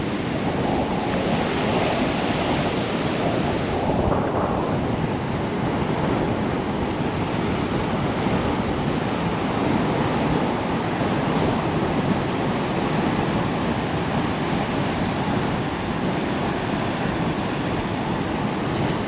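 Breaking waves and wind on Bexhill beach during a fishing competition, a loud continuous roar of surf with heavy wind rumble across the whole stretch and no talk.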